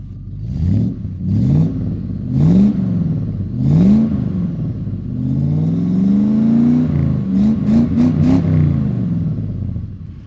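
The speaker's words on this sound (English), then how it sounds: "So I'm just going to point the microphone at the back of the exhaust and get it fired up." A classic car engine cranks and catches in several rising bursts, then idles and revs with a throaty exhaust rumble, recorded close to the exhaust and loud.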